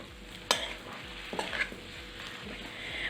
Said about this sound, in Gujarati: પછી ડુંગળી ઉમેરી દેવી અને બધું બરાબર મિક્સ કરી લેવું